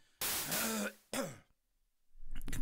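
Someone clears their throat twice, close and loud, followed by a short pause and faint movement.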